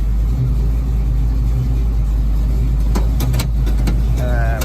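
A Pontiac Firebird's engine idles and putters steadily up close while the car is being parked, a loud continuous rumble with brief bursts of other noise near the end.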